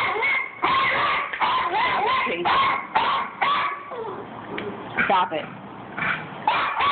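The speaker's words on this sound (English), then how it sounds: "Stop barking." Small Yorkie dogs bark and yip in quick repeated bursts indoors, close and loud, mixed with whimpers while a person speaks over them.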